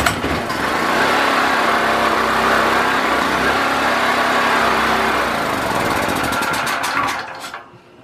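A Predator 4000 generator engine, carburetor just refitted, pull-started and running at a loud, steady roar for several seconds before quickly winding down and cutting out near the end.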